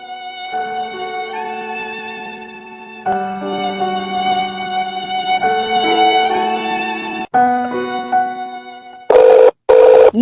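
A telephone plays a melodic ringtone, loud and close with sustained tonal notes over several seconds, breaking off briefly before a few sharp bursts of louder tone at the end.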